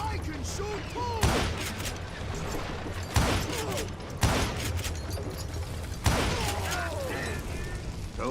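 Four separate gunshots in a video game shootout, spaced a second or two apart, each a sharp crack over busy mechanical clatter and background noise, with voices heard between the shots.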